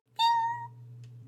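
A single human-voiced imitation of a cat's meow, a clear, close, high tonal cry that rises quickly then trails off after about half a second over a low steady hum.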